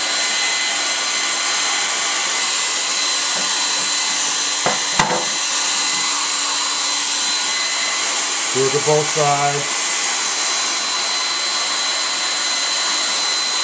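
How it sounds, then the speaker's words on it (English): A hair dryer blows with a continuous, steady whir throughout, melting wax while preparing honey supers for beekeeping. A few clicks sound and a person speaks briefly partway through. "The hair dryer is nice and hot now."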